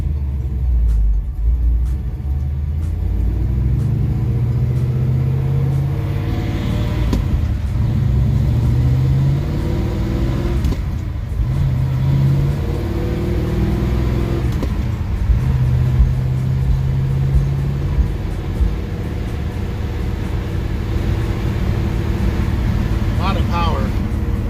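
A 1969 Chevy Nova coupe with a high-performance engine pulls away, its low rumbling exhaust rising and falling through several gear changes as it drives off, loud and steady throughout.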